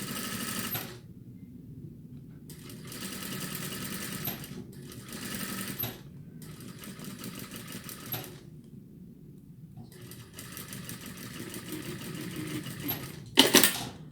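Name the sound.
sewing machine stitching piping onto fabric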